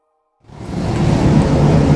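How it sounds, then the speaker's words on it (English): Low rumbling swells in after a moment of silence and keeps building, a distant thunder roll on a rainy day with no voices. "Don't know if you hear that thunder in the background."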